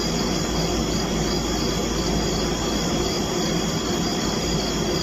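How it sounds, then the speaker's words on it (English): A steady, loud whirring drone of propellers hums continuously overhead, with a broad hiss and no change in intensity. "You can hear the propellers."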